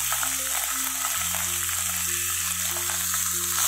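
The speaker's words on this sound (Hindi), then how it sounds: "प्याज को हमें सॉफ्ट होने तक ही भूनना है" Finely chopped onion, added with ginger-garlic paste, fries steadily in a pan over a medium flame, a constant close sizzle with a low hum underneath and no speech.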